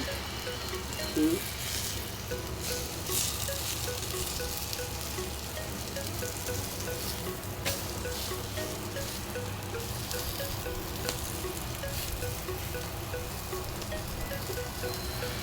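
Rotis frying lightly in a pan, with a soft, steady broadband hiss running the whole time and a few faint clicks and bumps, no talking.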